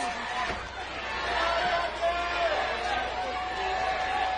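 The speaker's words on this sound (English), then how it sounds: "The crowd is on their feet." A wrestling crowd at an NWA TNA X Division match from 2003 rises to its feet, and a dense roar of cheering and chatter swells and holds as a commentator talks over it.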